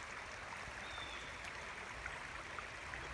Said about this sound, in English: I won't be able to see the water running like it is today